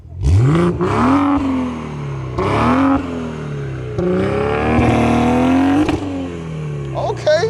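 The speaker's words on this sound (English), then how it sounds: "So, let's get some revs." A sleeper car engine with a new inlet manifold revs hard in repeated bursts, each rising to a loud whine and dropping back to idle, close and strong with no talking.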